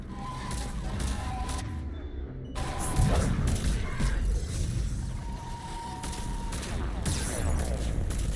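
Enemy gunfire from the Mass Effect 3 video game rattles in rapid bursts amid dense combat noise, with crashes and a heavier impact midway, the firing continuing steadily at moderate loudness.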